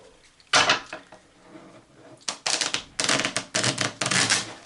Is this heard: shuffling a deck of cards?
yes